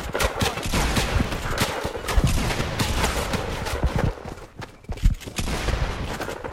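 Rapid turret gunfire in a multiplayer video game, a loud, dense stream of shots running almost the whole time with a brief dip near the end.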